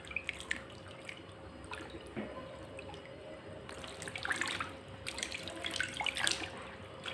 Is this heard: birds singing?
no